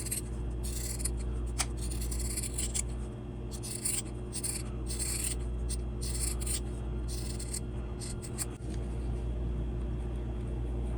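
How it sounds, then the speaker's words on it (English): Scissors trim around the seam of sewn fabric, with repeated close, crisp snipping and rubbing in uneven bursts and no talk. "I'm gonna go around and trim this."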